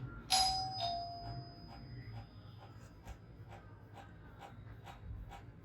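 A doorbell chimes once with a bright ding-dong near the start, its tone ringing out and fading over a few seconds in a quiet room.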